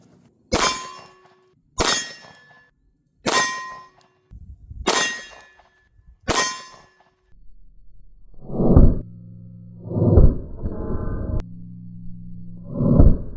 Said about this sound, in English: The Hellcat Pro still has quite a bit of recoil and muzzle rise, but it's definitely less recoil and muzzle rise than the Hellcat.